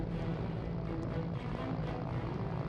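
Helicopter rotor and engine drone above a cargo ship on the high seas during an armed hijacking, a steady, dense whirring roar that holds constant throughout with no voices.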